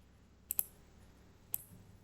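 Computer mouse clicks: a quick double click and then one more single click a second later, crisp and close against near silence.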